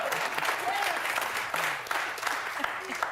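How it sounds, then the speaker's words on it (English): A studio audience claps during a live news talk show, a sustained burst of applause with voices talking over it. "I love that people clap for censorship."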